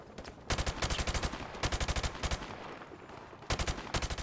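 Bursts of automatic gunfire in Call of Duty Modern Warfare Remastered, an SAS mission, rapid rattling volleys in three clusters separated by brief lulls, loud and close.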